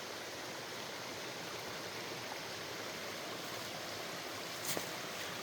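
Continuous rushing of flowing creek water, steady and close, with no voices and only a small splash near the end.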